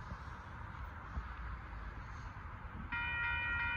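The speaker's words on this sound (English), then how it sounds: "next train's coming on to Dittmar now" Union Pacific limestone freight train at a road crossing in Austin, Texas, rumbling low and steady at a moderate distance, with a sustained horn blast sounding near the end.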